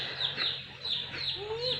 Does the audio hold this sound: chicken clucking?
yes